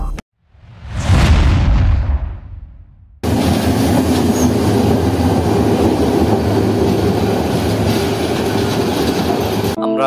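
A train near Comilla railway station gives a short rushing swell, then a loud, continuous rolling rumble and rattle of wheels on rails that holds steady to the end.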